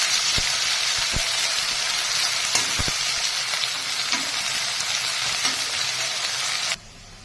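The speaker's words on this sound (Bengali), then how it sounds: "গোটা জিরে মশলা, দিয়ে দিচ্ছি পেঁয়াজ কুচি।" Chopped onions and whole cumin seeds frying in hot oil for a village-style country chicken curry, a steady, close, dense sizzle with a few sharp crackles and pops, running unbroken with no talk before cutting off abruptly near the end.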